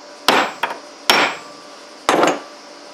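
Three sharp hammer taps on an aluminum part of a Scag Tiger Cat mower, each a short ringing metallic strike followed by a brief decay, spaced roughly a second apart, close and fairly loud with no talking.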